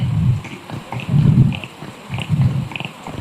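A voice imitates frogs croaking in the rain, with repeated low, throaty croaks in a loose rhythm, close and alone.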